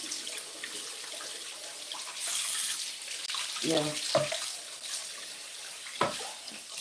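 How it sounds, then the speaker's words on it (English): Water run through a home juicer into a kitchen sink, a steady broadband rush with a few brief splashy bursts, close by, while a voice says a short word. "I'll just let water run through it now."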